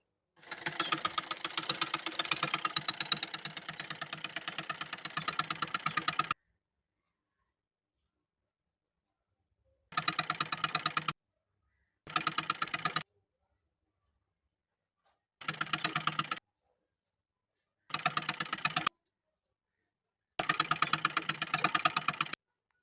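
Electric sewing machine stitching along the neckline edge of an embroidered blouse, a long continuous run followed by several short rhythmic bursts separated by silence, close and steady.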